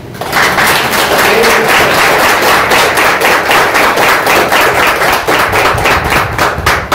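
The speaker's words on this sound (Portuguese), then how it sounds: "Agora eu aceito as palmas" An audience claps loudly and steadily at an evening gathering, a dense, continuous wash of many hands without talk.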